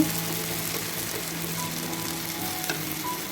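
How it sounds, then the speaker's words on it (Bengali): A spiced beef mixture is being dry-fried in a pan for beef pitha, hissing in a dense, even sizzle that stays close and loud for the whole stretch, with no talking. "এটাকে কিন্তু একদম শুকনা শুকনা করে ভুনা করতে হবে ঝরঝরা করে নিতে হবে"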